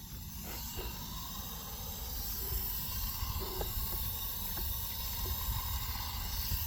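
Water spraying from a hose onto freshly poured cement outdoors, a steady broad hiss with a few faint clicks, and no talking.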